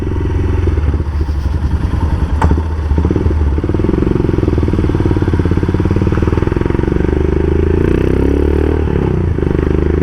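A Royal Enfield Himalayan custom motorcycle engine rumbles steadily at close range, with a low continuous drone and occasional clattering and a sharp knock partway through.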